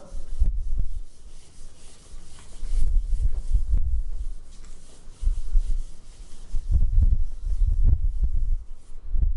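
A duster or cloth rubbing out writing on a classroom board, heard as repeated low, scrubbing strokes in uneven bursts that carry on steadily through the stretch with no talk.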